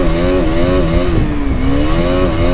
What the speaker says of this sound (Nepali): अब कुद्छ क्या बाइक